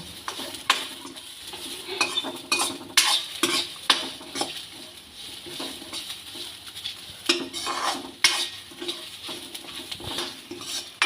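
Gobindobhog rice being dry-fried in a pan with cardamom, cinnamon and bay leaves, a steady soft sizzle broken by repeated scraping strokes of a spatula against the metal pan, close and fairly loud with no talking.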